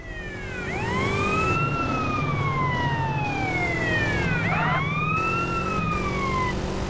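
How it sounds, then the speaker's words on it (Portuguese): A loud police siren in GTA San Andreas wails up and down in long sweeping cycles, near and continuous over a low engine rumble. "Eu não vou deixar essa sirene ligada"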